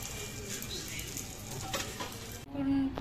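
Gola ruti, a batter flatbread, fries in a pan with a steady, fairly quiet sizzle throughout, and a brief faint tone near the end.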